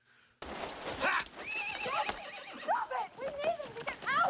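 Horses neigh and whinny repeatedly, loud and close, with a few hoof clops underneath.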